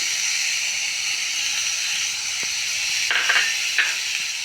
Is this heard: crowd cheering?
no